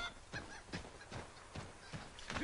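A chicken in the video game Assassin's Creed, in a farm village, gives a few short nasal clucks in a rough repeating rhythm, close and fairly quiet against low background game ambience.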